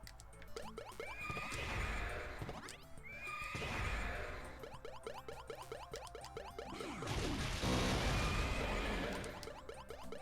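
A horse in the Danganronpa 2 video game neighs and whinnies loudly several times in succession, shrill cries rising and falling over busy game effects, with no talk.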